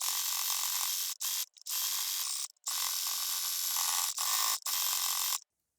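Sewing machine stitching a fabric book page, running in several bursts of rapid whirring needle clatter separated by short pauses, close and clear with no talk.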